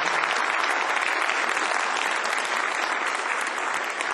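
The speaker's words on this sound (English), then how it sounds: "Round of applause, thanks." Dense, steady applause from a conference audience after a keynote at a Python developers' gathering, a continuous wash of many hands clapping at even loudness with no talk over it.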